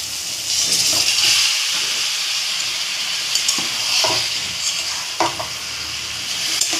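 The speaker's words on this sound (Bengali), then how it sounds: "এবার মোচার সঙ্গে ভালো করে কষানো হবে।" Banana flower is fried with spice paste in a hot pan, where a loud, continuous hissing sizzle is heard up close, broken by occasional spoon scrapes and knocks against the pan, with no one talking.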